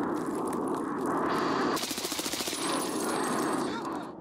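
Automatic fire from an HK gun in a video game, a rapid burst of closely spaced shots rattling out for over two seconds amid a loud, dense game soundscape.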